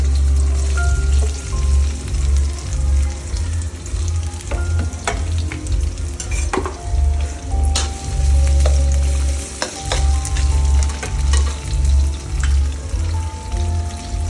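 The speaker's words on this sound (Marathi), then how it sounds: "कांदे टाकायचे, बारीक करून टाकायचे थोडं, लगेच आलूही टाकायचे," Chopped onions and potatoes fry and get stirred in hot oil with cumin and mustard seeds in a pan for Nagpur-style tarri poha. A loud, steady sizzle runs throughout, with scraping stirs and clinks over it and no talking.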